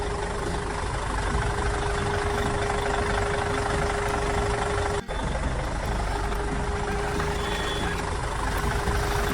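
A toy dumper truck drives with its engine rumbling steadily and a reversing beeper sounding continuously, loud and close, with a brief click near the middle.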